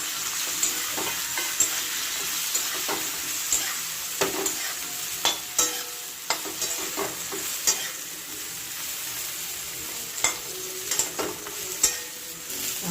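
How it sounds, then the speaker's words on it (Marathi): Stuffed brinjals stir-fried in oil in a kadai: a continuous sizzle under repeated scraping strokes of a spoon against the pan, irregular and close, with no one talking. "आता थोडं परतूया।"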